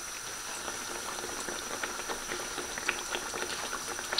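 A breaded chicken cutlet, coated in flour, egg and crushed instant noodles, fries in hot oil with a steady, fairly quiet bubbling crackle and scattered sharper pops, close and unbroken with no talking.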